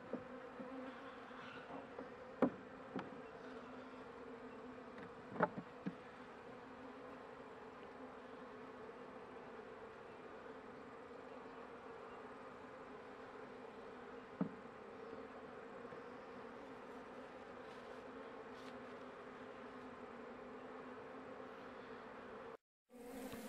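Honey bees on a hive frame make a steady, soft, continuous drone, with a few faint clicks and knocks from the frame or hive now and then. No voices are heard.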